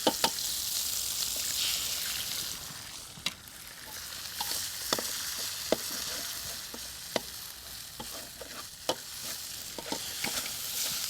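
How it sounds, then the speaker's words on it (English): Egg frying in hot oil in a pan during Thai cooking, with a steady crackling sizzle throughout and repeated clear knocks and scrapes of a utensil against the pan. "we crack our egg into that oil and cook it on the side"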